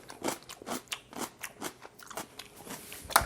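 Someone bites into pickled red onion several times in a row. Each bite gives a crisp, close crunch, repeated in a loose chewing rhythm, with no one talking.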